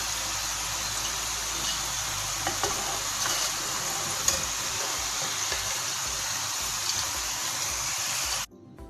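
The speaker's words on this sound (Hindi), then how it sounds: "हम 5 मिनट फ्राई करेंगे।" Potato French fries frying in hot oil, giving a steady, even sizzle and bubbling that runs unbroken for several seconds and then cuts off abruptly near the end.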